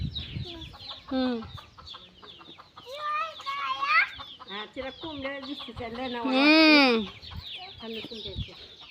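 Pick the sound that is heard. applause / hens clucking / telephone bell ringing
hens clucking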